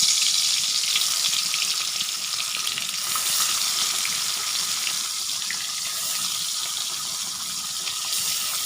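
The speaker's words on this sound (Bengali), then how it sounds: "এখন হলো আমি মাছ এই কড়াইতে দিয়ে দিচ্ছি।" Poa fish fries in oil in a wok with an even, close crackling sizzle that runs on for several seconds with small shifts in intensity and no talking.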